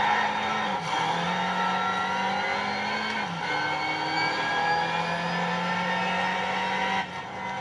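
Racing car engine in Need for Speed Underground 2 revving and accelerating loudly through gear shifts, a steady high engine whine dipping and climbing again, continuous throughout with no talk.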